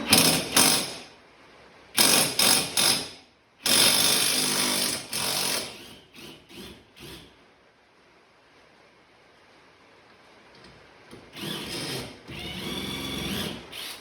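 A 14 mm lower suspension bolt on the rear of an EG Honda Civic is undone with a rattling air tool, harsh buzzing bursts close by, several short and a few longer, separated by quiet stretches.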